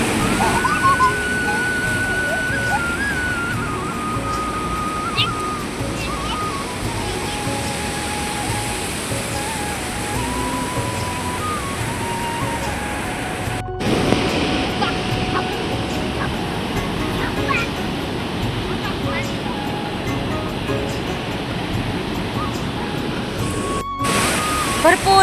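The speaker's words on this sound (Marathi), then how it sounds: "बघू शकता किती मस्त असा खळखळाट आहे पाण्याचा" A swollen river rushes past after high flows, making a loud, steady broadband roar and splashing that fills the whole stretch without letting up.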